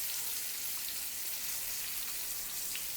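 Maharashtrian stuffed green peppers (simla mirch) roast in a hot pan, giving off a steady, even sizzle with soft crackles and no talking.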